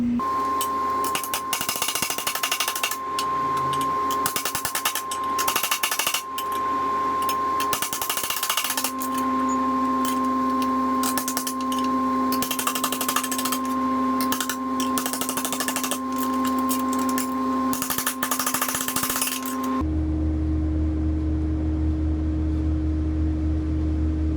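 Metal tapping and tool noise while 16 gauge steel plate is formed for a 240SX frame repair, a dense run of sharp hits over a steady workshop hum for about twenty seconds before the tapping stops and only a lower drone remains.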